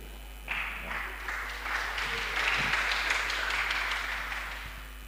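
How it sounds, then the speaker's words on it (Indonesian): Congregation applause during a church talk, a scattered patter of clapping that builds into a steady wash and then eases off, over a low steady hum. "Tepuk tangan dulu."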